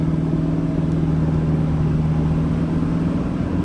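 A Toyota Hilux pickup cruises at highway speed in eco mode at about 2,000 rpm, giving a steady, even engine drone mixed with road and wind noise that holds constant throughout.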